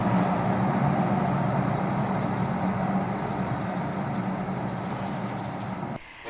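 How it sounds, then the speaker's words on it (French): Steady electronic beeping from a Riviera & Bar Sencha Ice tea machine, short high tones repeating about every second and a half over a constant background hum, ending abruptly. "ce que j'aime un peu moins, c'est les bip bip répétitifs qu'on ne sait pas malheureusement couper"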